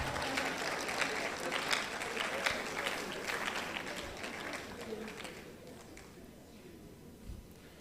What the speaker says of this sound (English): Oh, clap if you want to clap.